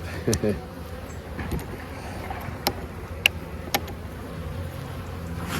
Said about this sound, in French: Les abeilles ont l'air vraiment en forme.